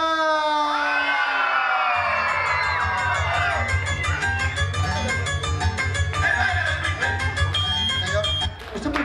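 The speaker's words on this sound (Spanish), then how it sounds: "¡Oílos cómo gritan!" An audience at a celebration party shouts, whoops and cheers loudly and continuously over music, with excited voices overlapping in a dense crowd roar that dips briefly near the end.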